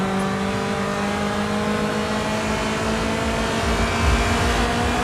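Race car engine at sustained high revs while driving in the GRID 2 video game, loud with steady harmonic whine and no talk, swelling slightly near the end.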